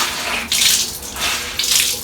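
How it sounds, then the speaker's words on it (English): Water squeezed by hand out of freshly rinsed shirts, three bursts of splashing and dripping close by, each a short gush followed by a trickle. "So I'm just going to squeeze the water out."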